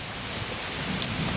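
Heavy rain pours down in a storm with wind, a loud, dense, continuous roar of drops hitting the surfaces of a flooded courtyard, heard alone with no voices.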